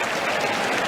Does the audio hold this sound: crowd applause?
yes